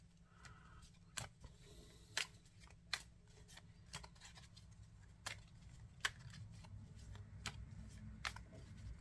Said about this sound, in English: I've got to get better at shuffling these.